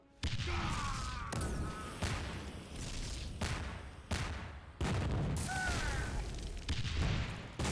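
Explosions and fire in the video game The Xcom Files: a run of sharp booms and blasts, one after another at close range, each followed by a roaring, crackling burst.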